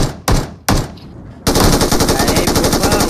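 Gunfire in a mobile shooter game played on an iPad: two sharp single shots, then a loud, sustained burst of rapid automatic fire.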